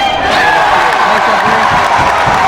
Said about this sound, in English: Now the Colonials crowd is very loud and enthusiastic